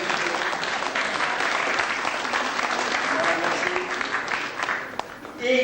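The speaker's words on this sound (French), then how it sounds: "Vous pouvez applaudir donc les deux" Sustained audience applause fills a hall at an international art event in Nice in 1995, steady and dense throughout before thinning slightly at the end.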